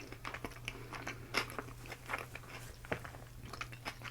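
Sushi being eaten close to the mic, with soft, wet biting and steady chewing crunches in an irregular rhythm over a low constant hum, no talking.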